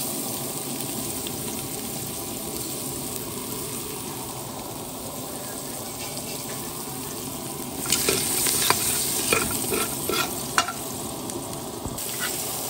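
Garlic sizzles steadily in butter in a pan while chicken tinola is being cooked, a continuous close frying hiss that turns busier partway through with scrapes and clinks of stirring.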